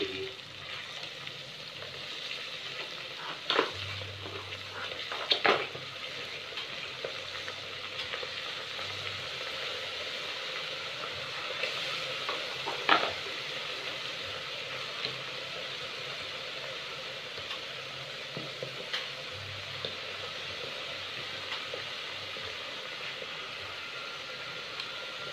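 Mud crab shell frying in a pan with chili salt and garlic, a steady soft hiss of oil with occasional louder stirring scrapes and clinks, quiet and continuous.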